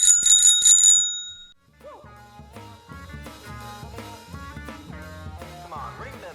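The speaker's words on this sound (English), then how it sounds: "Come on, ring them bells." Bicycle bells ring in a rapid cluster for about a second and a half, loud and close, before music takes over.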